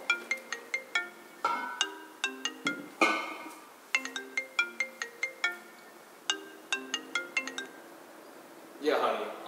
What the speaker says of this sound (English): Oh, what's that? That's the banana phone.